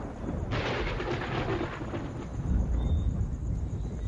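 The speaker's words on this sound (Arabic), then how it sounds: "ألا وهو العاصفة الكهربائية" Thunder from an electrical storm over a rocky mountain face in Yosemite, a deep continuous rumble that swells after a quiet start and keeps rolling loudly to the end, with no voices.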